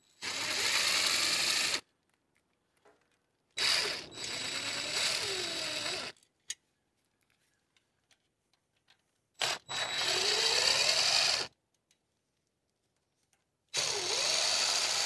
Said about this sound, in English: we'll go ahead and use the impact just to whiz them off a little quicker.